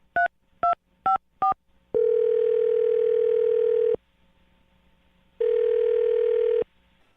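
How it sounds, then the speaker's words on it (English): A telephone dials a number: four quick touch-tone beeps, then two long, steady ringback tones separated by silence, clear and close with no talk. "I'm going to dial his phone number."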